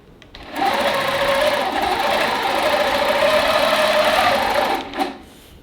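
A long arm sewing machine stitching a tote bag runs at a steady, loud whirring hum for about four seconds, then stops with a brief clatter.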